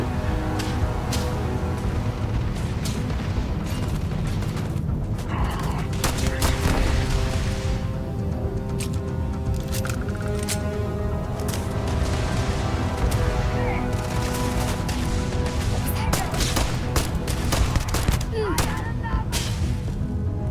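Rapid gunfire from the player's weapon in the space video game Starfield, sharp repeated shots cutting through a dense, continuous mix of game sound effects and music, loud and sustained throughout.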